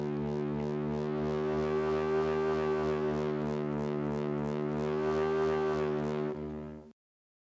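A sustained synth note with a steady buzzy tone bends slightly in pitch under a Glover glove roll movement while a second oscillator fades in, then cuts off abruptly near the end.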